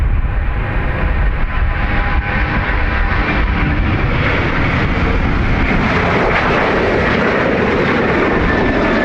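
A plane takes off from runway 28 right at Dublin Airport, a loud, steady jet engine roar that holds for the whole stretch with no voices over it.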